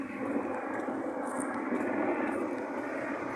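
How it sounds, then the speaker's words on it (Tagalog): A helicopter passing overhead on a hot midday street, heard as a steady, continuous engine and rotor drone that stays fairly loud throughout without fading, with no talking over it. "Tingnan helicopter guys."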